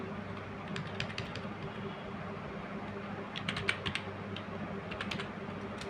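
Computer keyboard typing while writing CSS code, scattered bursts of key clicks in irregular clusters over a steady low room hum, fairly close but soft.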